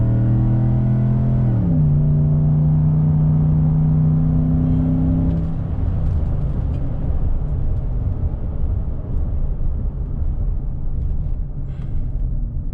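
A 2014 Ford F150 FX4 pickup truck speeds up toward 65 mph and then brakes, with a steady engine drone whose pitch climbs and shifts before fading into continuous road and tire rumble.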